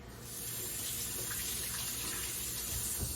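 A kitchen tap runs in a steady, full hiss while strawberries are rinsed beneath it, close and continuous with faint shifting splashes.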